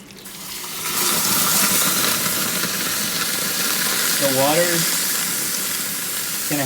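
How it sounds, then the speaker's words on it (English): Hot water pours into a pan inside a Weber kettle smoker set up for smoking ribs, a steady rushing splash with hissing steam that runs for several seconds, loud and close. "So now I'm going to pour in my hot water."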